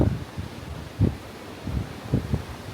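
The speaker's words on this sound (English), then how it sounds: "It's about 40 mile an hour gusts at the moment" Strong gusts of wind, around 40 mph, during Storm Amy buffet the microphone in repeated low rumbling bursts, rising and falling every second or so.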